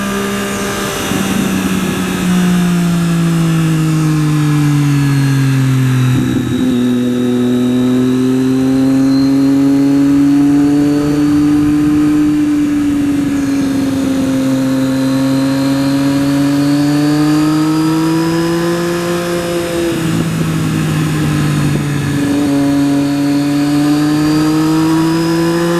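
A 2013 Triumph Daytona 675R motorcycle on a sweeping road, its engine droning loud and close with a clear rising and falling pitch as the rider rolls on and off the throttle, including smooth engine-braking stretches between brief gear changes.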